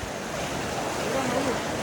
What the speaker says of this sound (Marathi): खूप मोठा वॉटरफॉल आहे